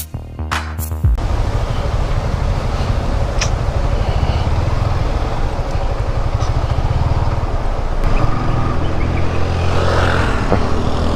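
A car's engine runs loud and close in a steady continuous drone as it drives up to park near the Irachilpara waterfall, with a brief mechanical clatter at the very start and no talking over it.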